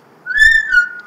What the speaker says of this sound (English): You hate whistling that much!